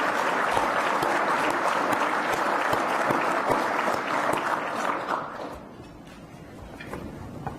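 Sustained applause from a large audience honouring two army units at an Army forum and awards ceremony, dense steady clapping that fades toward the end.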